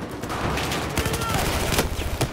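Hip-fired gun in the Battlefield video game, a dense spray of rapid shots rattling steadily through the clip amid busy battle noise, with some talk underneath.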